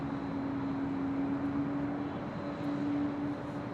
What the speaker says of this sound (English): And taking off there on 25 right there on the south side, China Cargo Airlines, flight 222, heading back to Shanghai, that 777.